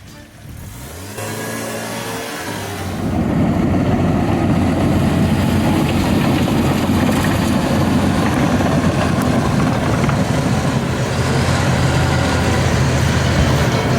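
A heavy engine rumbles steadily up close, idling briefly before revving up and holding a loud, continuous drone as the truck drives off-road through mud, with no talk over it.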